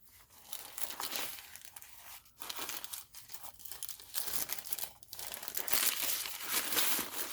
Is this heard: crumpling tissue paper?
yes